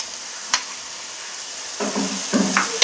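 Potatoes tipped into a hot pan for a spinach and potato masala curry, a quick clatter followed by bursts of frying sizzle and stirring, moderately loud, with no voices.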